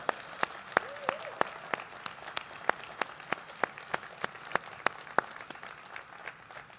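An indoor audience claps at a tech conference's opening remarks in Bengaluru, a steady patter of individual claps that starts sharp, heard at moderate distance and trailing off toward the end.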